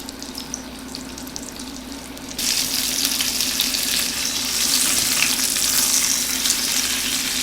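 Chicken breasts for chicken Florentine browning in a frying pan give a steady close sizzle that swells noticeably louder partway through and holds, with no talking.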